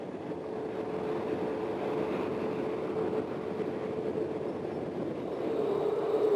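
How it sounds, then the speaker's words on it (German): An Amtrak passenger train climbing steeply behind three diesel locomotives in the Rocky Mountains, a steady loud rumble and rolling roar heard from on board that swells slightly toward the end. "Und dann geht es steil bergauf, mit 3 Dieselloks vor dem Zug."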